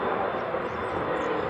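A steady broadband roar of aircraft noise fills the ambience at Dallas/Fort Worth airport. The jet rumble holds constant and moderately loud, with no distinct events standing out.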